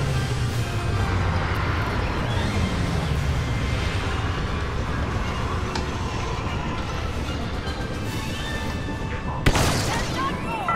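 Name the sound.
blaster turret firing in video game Star Wars Battlefront 2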